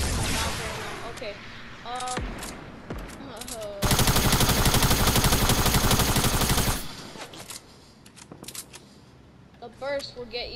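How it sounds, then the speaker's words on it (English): Rapid automatic gunfire in Fortnite, heard as a loud sustained burst of several seconds with scattered single shots before and after and players talking around it. "You can actually hear the gunshots."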